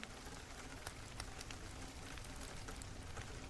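Fine rain falling steadily outside by a lake in clear daylight, a dense, even patter of drops with occasional sharper taps, continuous and unbroken with no voices.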